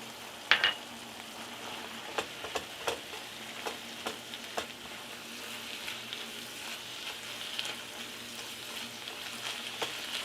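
A burger and tomato mixture thickened with flour simmers in a pot, giving a faint steady bubbling sizzle with scattered soft pops and clicks throughout.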